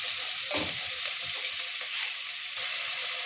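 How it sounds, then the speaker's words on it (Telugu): Onion, cashews and chilli fry in hot ghee with a steady, dense sizzle. A brief scrape of stirring near the start, then continuous crackle at an even level. "ఆనియన్, జీడిపప్పు, చిల్లీ ఇవన్నీ బాగా ఫ్రై అయిన తర్వాత జింజర్ గార్లిక్ పేస్ట్ అనేది యాడ్ చేస్తాం"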